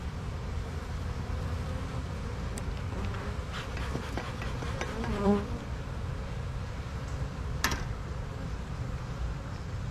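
A steady, dense buzzing of many honey bees at a hive fills the scene, a constant insect drone with occasional brief louder passes close by.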